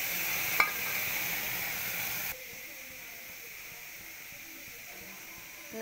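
Prawns frying in a hot pan, a strong steady sizzle that drops suddenly to a softer hiss partway through, with a faint voice in the background.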